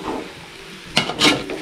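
Fried chicken stirred into kadai chicken masala in a pan, a faint background sizzle broken by a couple of brief scraping, clattering stirs near the end.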